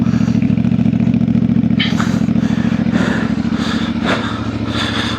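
A 2026 CF Moto IBEX 450 motorcycle is ridden off-road, its engine a loud, steady, close thrum with a few rises in revs. Rattling and clattering from rough terrain run throughout.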